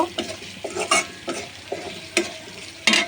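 Spice paste of ginger paste, garlic paste and ground cumin being stirred and fried in a pan, with scraping spatula strokes over a steady sizzle, close and fairly loud.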